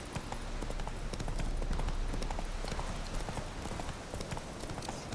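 Horse hooves clip-clop steadily on the ground in The Witcher 3 video game, a brisk continuous trotting rhythm at moderate, fairly soft volume.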